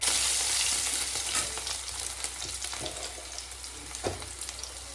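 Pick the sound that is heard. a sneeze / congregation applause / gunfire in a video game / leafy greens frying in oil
leafy greens frying in oil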